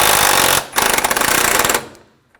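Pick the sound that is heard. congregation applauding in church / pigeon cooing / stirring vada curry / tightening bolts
tightening bolts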